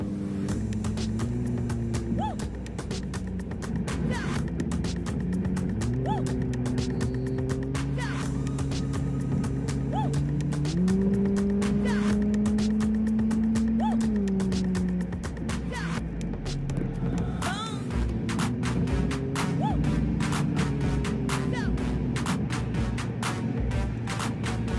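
Steady interior drone of a car driving on a road on the way to a Turkish car meet in America, with a low engine hum whose pitch steps up and down as it shifts, close and constant throughout.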